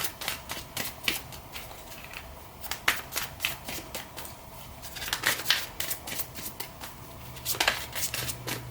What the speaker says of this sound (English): Just want to get one more card.